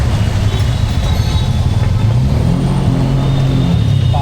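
A BS6 auto-rickshaw engine runs rough and uneven in heavy monsoon rain, a loud, close, low rumble that wavers and sputters throughout.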